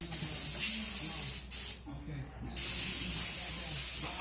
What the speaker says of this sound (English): blowing everything with a compressor, with a hose that he has connected to the compressor in the back